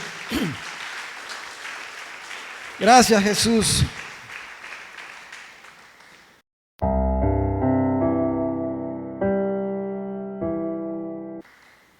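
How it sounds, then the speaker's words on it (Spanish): Congregation applause in a church service, fairly soft and spread out in the first half with a louder burst of voices, then giving way to sustained organ or keyboard chords. "Démosle un aplauso, hermano, a Él esta noche"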